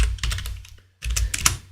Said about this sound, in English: Okay, let me type it out.